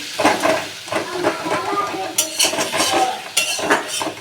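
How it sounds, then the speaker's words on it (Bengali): Tomatoes stirred and fried with spices in a pan for a green-chilli Boyal fish curry, a steady scrape and clink of a spatula with soft sizzling in repeated strokes, close and fairly loud. "টমেটো দিয়ে দিলাম, ভালো করে কষিয়ে নেব যাতে মশলার গন্ধটা চলে যায়।"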